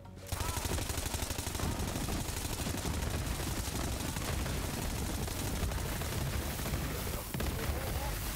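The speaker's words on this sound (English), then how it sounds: "that guy over there is shooting me" Rapid, continuous gunfire from the video game Borderlands 3, with dense bursts that stay loud and steady for the whole stretch, and only brief dips between volleys.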